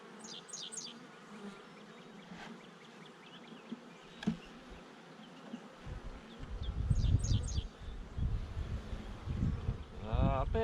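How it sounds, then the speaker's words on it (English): A swarm of honeybees buzzing in a steady drone, growing louder and closer toward the end, with a few sharper passes near the microphone and some wind noise. "I bet this is a swarm"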